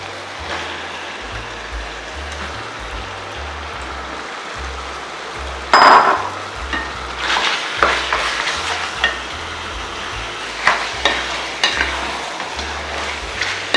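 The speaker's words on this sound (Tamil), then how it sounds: "கறி கொஞ்சம் நேரம் அந்த எண்ணெயில் ஃப்ரை ஆகணும்" Mutton pieces dropped into hot oil with cooked onion and tomato for a keerai mutton gravy, a loud burst of sizzling followed by irregular spoon scrapes and stirring over a continuous fry.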